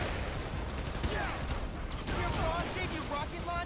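Enemy gunfire in the PS5 game Spider-Man Miles Morales, a steady dense barrage of shots and crashes mixed with game sounds under continuous voices.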